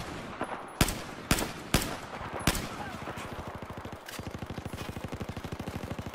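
Gunfire in Battlefield 4 on PS4: several loud, separate shots ring out with pauses between them, then a sustained rapid burst of automatic fire hammers steadily until the end.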